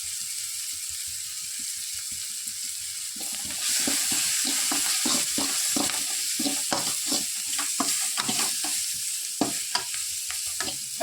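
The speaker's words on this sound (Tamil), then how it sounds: "இப்போ நல்லா வதங்கிடுச்சிங்களா வெங்காயம்." Onions sauté in a pan with turmeric and chili powder, giving a continuous sizzle broken by repeated close scraping stirs, with no talk.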